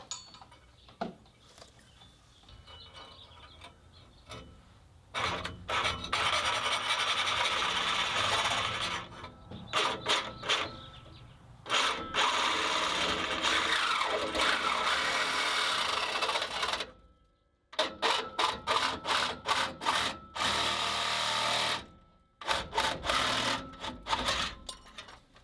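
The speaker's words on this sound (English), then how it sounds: "Got a new Sawzall blade, some cutting oil." A Sawzall reciprocating saw with a new blade and cutting oil cuts through exhaust pipe on a 1977 Ford F250, running in loud sustained bursts with short pauses between them, rattling and grinding close to the listener.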